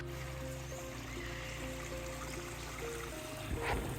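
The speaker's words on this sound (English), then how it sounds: "Can you hear that?" Faint flowing water murmurs steadily in the background as a soft continuous wash, with a low hum underneath and a slight swell near the end.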